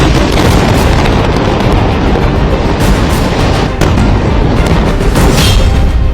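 An Israeli strike on a Hamas headquarters in Gaza produces a massive, continuous explosive roar, loud and saturated, rumbling on for several seconds with occasional sharper bursts.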